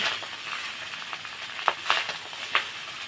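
Paneer pulao fries in a pan under a low sizzle, with several sharp scraping stir strokes from a spatula toward the end and no voices.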